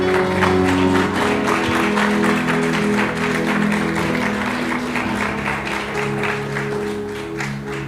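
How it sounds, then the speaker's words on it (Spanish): Church congregation clapping, a sustained, fairly loud round of applause with a faint tonal hum beneath and light murmur, fading slightly toward the end. "¿Por qué no le damos un aplauso al Señor?"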